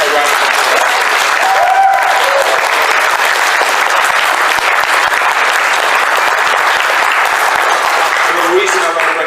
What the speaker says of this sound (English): If we could give the team at ProTech a round of applause.